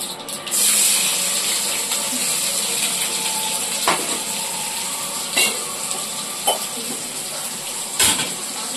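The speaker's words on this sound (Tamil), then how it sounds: "வெங்காயம் போடுறேன்" Onions drop into a hot pan and sizzle in a steady, bright hiss, punctuated by a few sharp clicks and scrapes from utensils against the metal.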